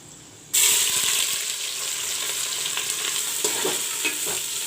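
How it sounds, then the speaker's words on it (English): Chopped onions with whole garam masala hit hot oil for mutton jhol and burst into a loud, sudden sizzle that holds steady and close, with faint crackles and scraping through it. "Let this onion fry"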